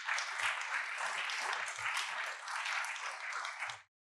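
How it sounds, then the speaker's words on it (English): An audience at a closing talk on hope and climate disasters gives a round of applause, a dense, even clatter of many hands that holds steady for nearly four seconds and then stops sharply. "we can give them a round of applause"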